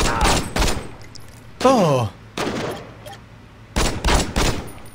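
Saints Row gameplay with short bursts of gunfire in separate clusters, loud and close, broken by gaps where a man exclaims briefly.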